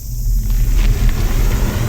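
A BYD Seal Performance electric car accelerates hard from a standstill in sports mode, heard from inside the cabin as a loud, steady low rumble of motor and road noise with no voices.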